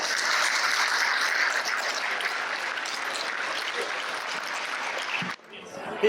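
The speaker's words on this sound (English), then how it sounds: "Please give them a round of applause." A crowd at the Festival du Bois opening ceremony gives sustained, steady applause that drops off abruptly near the end, leaving quieter scattered sound.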